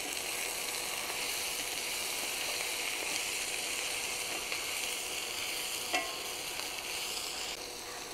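Potatoes, peppers and onions seasoned with smoked paprika fry in a skillet with a constant close sizzle, while a utensil stirs and scrapes through them, giving light clicks over the steady hiss, with no one talking.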